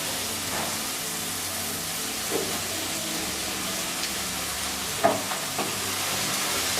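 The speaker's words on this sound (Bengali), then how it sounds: "টমেটোটা সফট হয়ে আসলে পরে এর মধ্যে এখন দিয়ে দিচ্ছি ডিমের পকোড়াগুলো।" Egg pakoras cooking in a spicy tomato gravy for chili fish egg curry, giving a steady, even sizzle and bubbling throughout with a few faint clinks.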